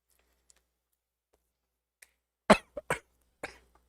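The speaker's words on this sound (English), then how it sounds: "Coughing." A man coughs in a quiet room, giving a few short, sharp bursts close by, with no talk around them.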